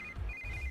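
A mobile phone ringtone rings briefly with a high, steady electronic tone in two short bursts separated by a tiny gap, quiet and alone over faint low background rumble.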